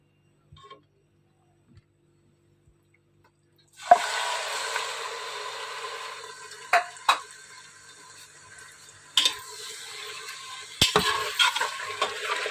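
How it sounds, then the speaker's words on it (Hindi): Mutton pieces frying in hot oil inside a pressure cooker, starting after a short silence as a sudden steady sizzle with occasional clinks and stirring scrapes over it. "गोश्त को मैं फ्राई कर लेती हूँ करीबन वाइट से पिंक होने तक।"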